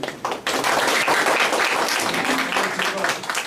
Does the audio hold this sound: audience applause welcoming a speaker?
yes